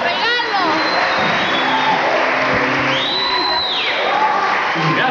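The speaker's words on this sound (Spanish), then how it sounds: "Fuerte aplauso." Studio audience of a Sunday variety show applauding and cheering, a dense continuous crowd clapping with shouts and whoops mixed with a loud host's voice over it.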